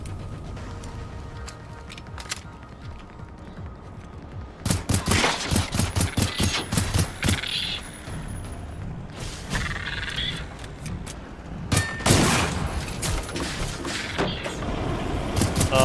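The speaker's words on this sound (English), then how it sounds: "I'm just shooting into the bushes." Bursts of rapid automatic gunfire in the video game Generation Zero, fired into bushes. Loud clustered volleys come in several waves, separated by quieter gaps filled with ambient game sound.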